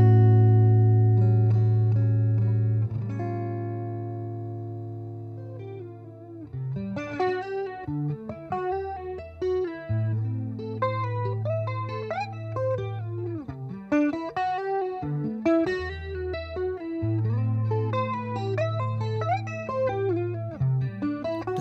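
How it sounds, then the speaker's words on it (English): An electric guitar plays through a Roland JC-22 Jazz Chorus amplifier with its chorus effect, opening on a long sustained shimmering note before moving into clean, swirling chords and melodic lines, moderately loud and alone. "Despite the fact that the JC-22 has quite small speakers compared to most normal guitar amps, the sound of this amplifier is seriously impressive."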